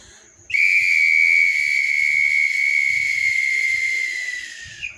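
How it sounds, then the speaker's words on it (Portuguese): One long, loud, piercing whistle blast held steadily for about four seconds, close by, with faint low rumbling underneath. "E aí, ele pegou um apito"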